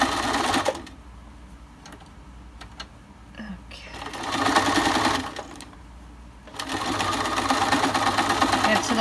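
A sewing machine stitches a fabric mask in bursts, running back and forth with fast mechanical whirring and pausing between runs, while a person talks quietly in the gaps.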